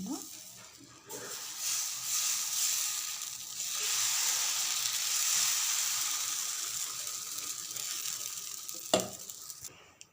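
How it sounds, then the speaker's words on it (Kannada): Dosa batter sizzles and crackles on a hot tawa, a steady frying hiss that swells and fades across the clip with a brief sharp clatter near the end. "ಇವಾಗ ತವ ಕಾದಿದೆ ದೋಸೆ ಹಾಕೋಣ"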